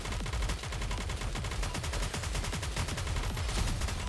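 Rapid automatic gunfire from the video game Goddess of Victory: NIKKE, dense continuous bursts of shots rattling in quick succession, loud and steady with no talk.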